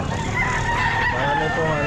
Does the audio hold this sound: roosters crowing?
yes